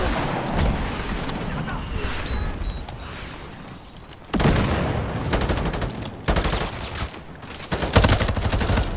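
Gunfire in a Modern Warfare 4 campaign mission plays on commando difficulty: loud bursts of rifle shots and booming impacts come in several sharp waves, with someone talking in between.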